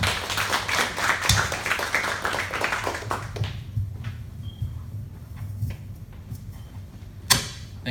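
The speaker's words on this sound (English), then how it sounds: "Let's give him a round of applause." Audience applause at a business presentation, steady clapping from a crowd for about three seconds that quickly dies away, followed by room noise, a few stray claps and a sharp knock near the end.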